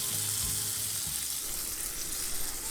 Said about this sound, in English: Now final step, add dal curry to fried mixture and stir well.